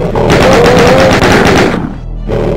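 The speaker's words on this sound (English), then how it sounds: "We can get our chain gun" Rapid chain gun fire from Doom (1993), a dense, loud, steady burst of shots lasting about two seconds, then briefly dropping off before resuming.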